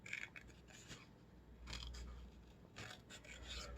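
Scissors snip and rasp through paper while cutting out Halloween tombstone templates, several close, faint cuts in irregular bursts with no speech.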